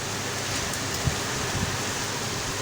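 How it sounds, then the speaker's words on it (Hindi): Heavy stormy rain pours outside as a dense, even hiss of broadband noise, with a couple of faint soft knocks and no voices. "बाहर बहुत ही तूफ़ानी बारिश हो रही है"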